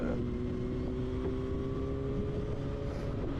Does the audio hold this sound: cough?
no